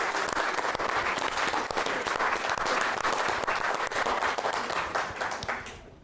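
A live audience bursts into loud sustained applause and cheering for Kenneth Williams, a dense wash of clapping that holds steady for several seconds before tapering off at the end.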